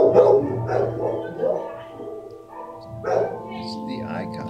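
A young adopted shelter dog gives short barks and yips, close by, mixed with a person speaking softly to it.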